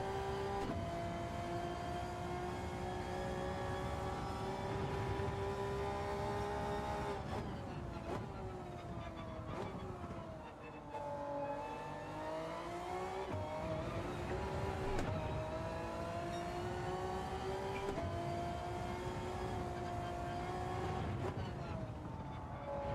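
A road-going electric car in Gran Turismo 7 runs flat out on the Kyoto circuit, its loud, steady motor whine sweeping up and down in pitch as it speeds, with a tyre and road rush underneath.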